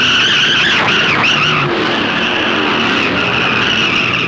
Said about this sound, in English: Tiny Lund's Ford skates down the main straightaway as Lund fights the wheel